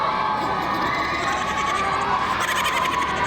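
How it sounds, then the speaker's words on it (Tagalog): A crowd of boys shouts and yells together in a loud, sustained chorus during a town circumcision event in San Juan, Batangas, the cries steady and echoing throughout. "Ang kanilang sigaw na umahalingaw-ngaw."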